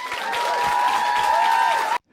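A crowd claps steadily in a dense wash of applause with a sustained tone running underneath, then it cuts off abruptly to silence.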